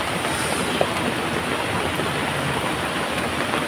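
A flooded river in a Konkan village rushes in a loud, unbroken roar of water. The noise is steady and even throughout, near and dense, with no voices.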